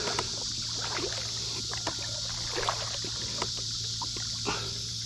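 Feelfree Lure 13.5 kayak held by a YakAttack anchor trolley, with water lapping and trickling against the hull in gentle splashes over a steady low hum, close by and fairly quiet.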